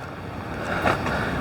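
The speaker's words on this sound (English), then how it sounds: "that sound is the water" The Swan River rushes over Bells Rapids in Perth's Western Australian bushland, a steady broadband wash of water heard from a short distance, mixed with light wind noise and no voices.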